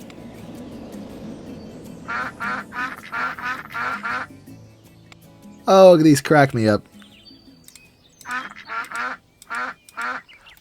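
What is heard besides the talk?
duck quacks from spinning ducks ride in RollerCoaster Tycoon video game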